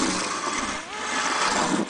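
An RC ice glider engine revs on the ice in a steady, loud, whining roar that stays close and constant for just under two seconds.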